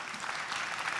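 Sustained applause from an audience at an award speech, a steady dense wash of clapping throughout, moderately loud with no voice over it.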